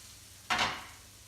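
Red capsicum tossed in a frying pan makes a single brief whoosh of sizzle and scrape, close and alone, then quiet background hiss.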